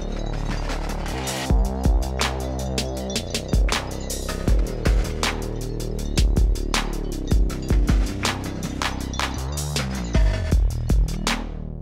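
A steady electronic beat with punchy kick and snare hits over a thick, sustained bass line, with bright hi-hats ticking through it at a driving tempo.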